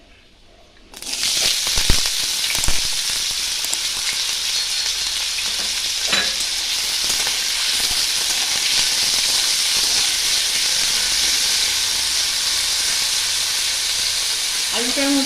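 Potatoes dropped into hot oil in a pan burst into a loud, close sizzle after a quiet start, with a few sharp crackles early on, then a steady hissing fry that holds to the end.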